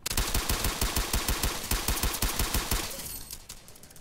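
Rapid automatic gunfire from an AK rifle in the video game Base Battles, a dense run of loud close shots that stops abruptly near the end, leaving a short fading tail.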